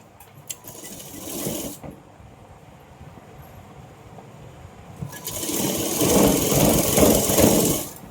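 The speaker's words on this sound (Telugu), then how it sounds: "ఈ రెండు సైడ్స్ అనేది స్టిచ్చింగ్ చేసుకోవాలి." A sewing machine stitches the seams of Patiala pants in two runs, a short burst near the start and a longer, louder steady whirring run in the second half, with quiet pauses between.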